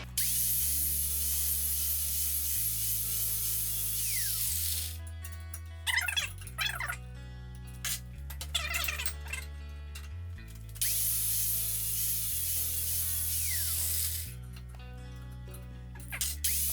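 A bench grinder wheel grinds a steel wrench clamped in a vise for a no-weld twisting wrench, a steady high whining hiss that cuts out into clinks and knocks as the piece is rolled over, then resumes.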